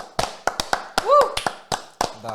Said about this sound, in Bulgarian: Обичаме да се пляскаме.